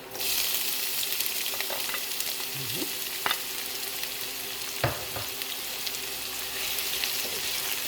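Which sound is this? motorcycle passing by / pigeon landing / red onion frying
red onion frying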